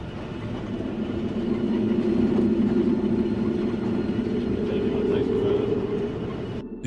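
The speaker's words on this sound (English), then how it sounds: "The train is travelling slowly through the Australian countryside." Train rolling slowly through the Australian countryside in the Barossa Valley, a steady close rumble and hum of wheels and carriages that swells and then eases off toward the end.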